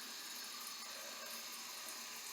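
Tap water runs in a steady, close, hissing stream into a sink, with no other sounds.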